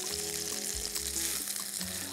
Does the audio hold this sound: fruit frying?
yes